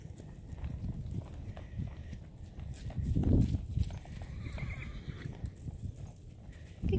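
A saddled horse moves around a round pen, its hooves thudding softly on the ground at a steady walk, with a brief whinny-like swell partway through.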